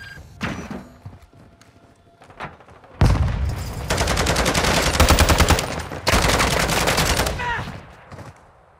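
An automated sentry gun in Call of Duty MW2 fires loud, fast, evenly spaced machine-gun bursts lasting several seconds each, separated by a short pause, after a few scattered thuds and shots.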